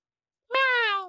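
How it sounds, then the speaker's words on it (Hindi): A single cat meow, loud and close, rising then holding a drawn-out wavering tone for about half a second, heard alone after a moment of silence. "म्याऊं।"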